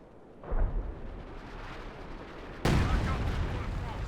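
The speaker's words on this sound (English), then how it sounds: "Now he's opening up. He's just going to go for another base barrage." Artillery from a base barrage in Company of Heroes 2 rumbles as a dense wash of game battle noise, with a rolling low boom near the start and a louder burst of fire partway through.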